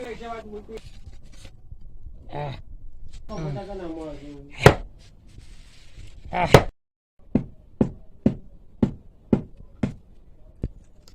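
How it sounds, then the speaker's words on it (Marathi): A wooden handle is fitted into a Konkani billhook blade: a few scattered knocks and scrapes, then a run of about eight sharp, evenly spaced wooden blows, close and loud. A voice talks briefly early on. "तर चला ह्या आता आपण कपाळात थोरू घालूया."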